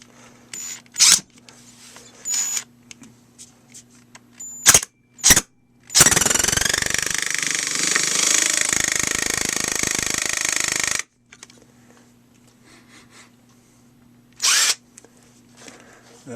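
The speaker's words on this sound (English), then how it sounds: "Let's bang another one into there." A Ryobi Quietstrike P290 impact driver drives a screw into wood in one continuous five-second burst of close, loud whirring hydraulic pulsing, with scattered handling clicks and knocks before and after.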